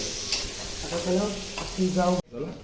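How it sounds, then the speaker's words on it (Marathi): Chicken frying in a pan, with a steady sizzle and stirring scrapes running throughout and a voice briefly heard over the cooking. "यो एक रोस्टेड नाही चिकन फ्राय करतोय"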